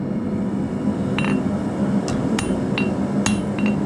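A hammer strikes hot metal while a hook is forged by a blacksmith, several sharp ringing blows over a steady low roar, close and without talk.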